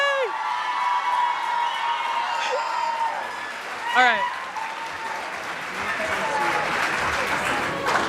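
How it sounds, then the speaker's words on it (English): Audience applause and cheering at a high school band concert, a dense wash of clapping that swells toward the end, with a voice speaking briefly over it. "one more big round of applause for all of them"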